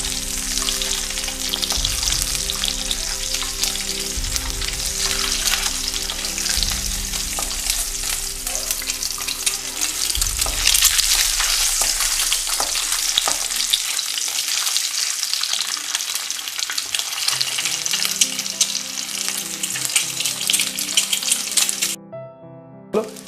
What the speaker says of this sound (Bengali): আমাদের ডিমটা অলমোস্ট ভাজা হয়ে গেছে